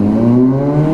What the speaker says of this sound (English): a bike with a fucking loud exhaust on it